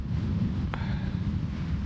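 Strong night wind in the border town of Errenteria, Spain, a steady low roaring rumble buffeting the microphone, with a brief faint higher sound in the middle.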